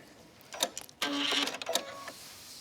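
A sewing machine runs in short close bursts, a stop-start mechanical whir and clatter, top stitching along the edge of a cream-coloured dress seam.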